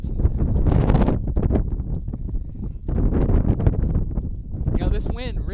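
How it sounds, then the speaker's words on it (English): Strong wind buffets the microphone at an outdoor college baseball game between Georgia Tech and Tennessee, a loud continuous roar with gusts, heard under a steady stream of broadcast commentary. "It is very windy here, Kobe"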